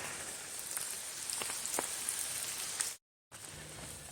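Steady soft patter of rain on a surface outdoors on the Appalachian Trail, with scattered droplet ticks, briefly cutting out near the end before resuming.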